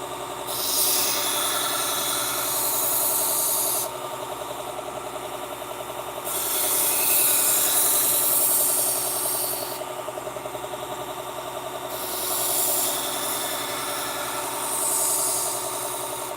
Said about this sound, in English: I love these 1x30 belt sanders.